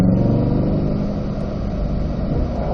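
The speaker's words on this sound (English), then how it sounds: "Back to the gas. Downshifting back to third." Chevrolet Corvette C8 race car on a track, its engine droning loud and close under load as it accelerates out of a downshift, steady and uninterrupted.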